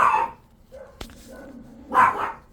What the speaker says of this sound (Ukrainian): Так, собаки починають гавкати.